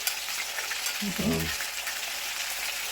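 Onions frying in a pan while being pushed around, a steady bright sizzle throughout, close and even, with a brief voice heard over it.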